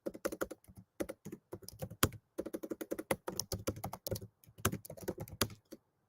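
Quick bursts of clacking keystrokes on a computer keyboard, close and crisp, in irregular runs separated by brief pauses, with one sharper key strike standing out.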